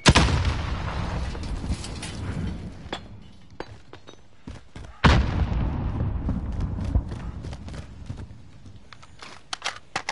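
A grenade explosion in a video game, with a loud booming blast at the start and another heavy detonation midway, each trailing into rumbling decay with scattered crackling debris and distant shots between.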